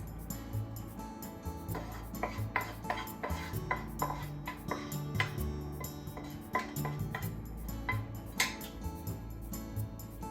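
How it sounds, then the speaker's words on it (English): Chopped vegetables being mixed into hot microwaved rice in a bowl for omurice onigirazu, a close run of quick, irregular clinks and scrapes of a utensil against the bowl, with no talking. "Let's mix the vegetable with the rice."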